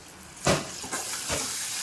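A couple of loud hissing sizzles flare up one after another as a spice tempering hits hot oil over onions, chillies and tomatoes, then fade into a steady crackle.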